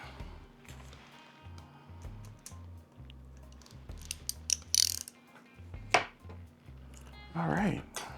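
A ratchet with an extension tightening a part on a Dickinson pump-action shotgun, close rhythmic clicking in repeated strokes with a few metallic knocks, while someone talks.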